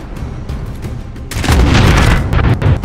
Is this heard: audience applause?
no